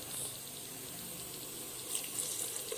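Water poured into a cooking pot of vegetable biryani in a home kitchen, a soft, steady splashing stream heard alone and fairly close for a few seconds.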